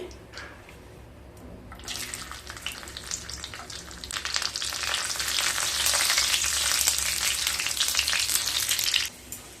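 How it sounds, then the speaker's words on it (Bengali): Cashews fry in melted ghee in a pan, a steady bright sizzle that starts after a quiet opening, swells and holds strong and close, then cuts off near the end. "2 চামচ ঘি দিয়ে দিলাম। ঘিটা মেল্ট হয়ে গেছে। এরপর কিছুটা কাজু ভেজে নেব।"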